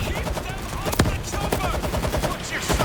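Rapid automatic AK rifle fire in the zombie shooter World War Z, dense bursts with sharp shot peaks running through the whole stretch amid chaotic game noise.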